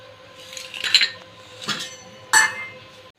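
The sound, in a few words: pan on stove with oil, cooking vessels clinking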